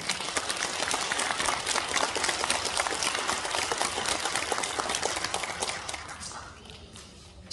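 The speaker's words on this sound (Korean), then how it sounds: "큰 박수 주십시오." Steady, fairly distant crowd applause for a county governor at a disability day event in Gunwi County, North Gyeongsang. The clapping stays dense and even, then thins and fades toward the end.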